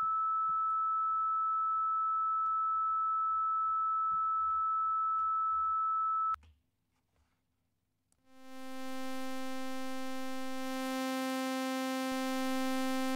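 Rectangular wave tone from the Kmath software synthesizer, a steady buzzy hum that follows a thin pure tone and a brief pause, then holds loud and unchanging to the end.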